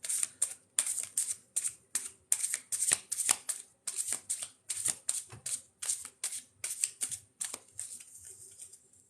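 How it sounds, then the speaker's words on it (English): Large tarot cards are riffled and shuffled over and over in quick rhythmic bursts, crisp and close, the pattern slowing and softening toward the end. "these cards are huge, so I have to adjust how I shuffle these."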